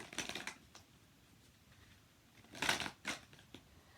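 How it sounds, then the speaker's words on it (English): A deck of cards being shuffled in a card video game, a soft brief riffling burst at the start, then after a pause a louder double shuffle swish followed by a couple of light clicks. "Oh, I need to shuffle."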